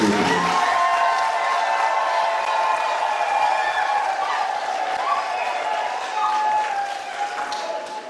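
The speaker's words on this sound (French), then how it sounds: "Applaudissons encore très fort pour ce couple." Wedding guests applaud the newly married couple in a sustained burst of clapping that runs for several seconds and tapers slightly at the end.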